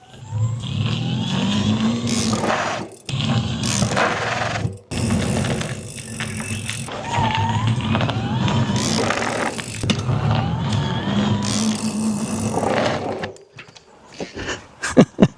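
Bicycle with disc brakes on a test ride after the brakes were cleaned, recorded from a microphone clipped to the disc brake; a steady, close rolling and whirring hum runs throughout with brief drops and a few bumps near the end.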